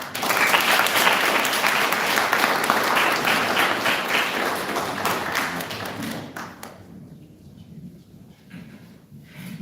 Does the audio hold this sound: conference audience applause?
yes